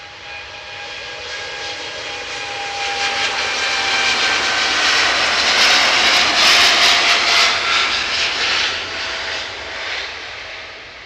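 A Virgin Atlantic Boeing 787 Dreamliner passes at Manchester Airport, its jet engines swelling into a loud, broad roar with a faint whine, peaking midway and easing off as it moves away.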